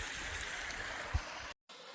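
A rain-swollen waterfall on Kinder Scout in the Peak District, heard as a steady broadband rushing roar from nearby, continuous and unbroken apart from one brief dropout near the end, with no talking.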